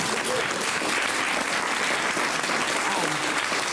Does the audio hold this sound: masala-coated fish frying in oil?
no